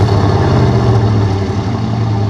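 A 1991 Chevy engine runs steadily, a loud, close, even low-pitched drone with a constant idle rhythm throughout.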